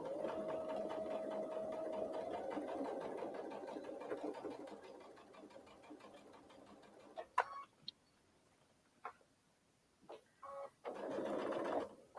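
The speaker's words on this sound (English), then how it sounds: "I don't know if y'all ever tried to one-handed sew something that you're manipulating" A sewing machine stitches a quilted case in short runs, a rapid mechanical chatter that starts strong, fades, then returns in brief bursts separated by quiet pauses.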